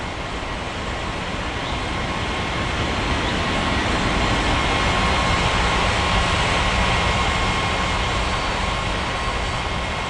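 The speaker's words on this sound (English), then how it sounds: "American 3717 cleared for takeoff runway 35" A simulated airliner rolling for takeoff in an air traffic control game at a tropical island airport, a steady loud broadband jet roar with faint tonal whine, constant throughout with no voices.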